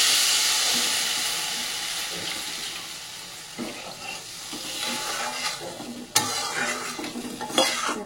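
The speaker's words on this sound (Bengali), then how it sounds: "অল্প মশলা ভাজা ভাজা হয়ে গেছে" Spices sizzle steadily in a hot pan for a fish curry while a utensil scrapes and stirs, with a few clinks of metal against the pan.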